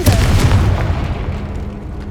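Confringo fire spell blast in Hogwarts Legacy, a loud booming explosion hitting at once and then fading into a rumbling roar over two seconds, with no voice over it.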